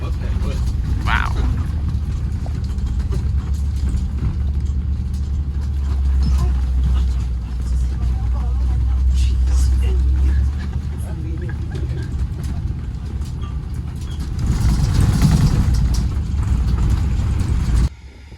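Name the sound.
tour vehicle riding on bumpy deep sand road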